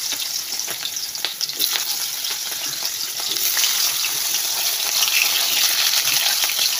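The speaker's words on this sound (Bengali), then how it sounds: "তেলের মধ্যে কালো জিরা দিয়েছি, তারপরে আলুগুলো দিয়ে তোমার লবণ দিয়ে ভাজা করছি।" Potatoes fry in hot oil with black cumin and salt, giving a steady close sizzle that swells louder and denser through the second half, with no talking.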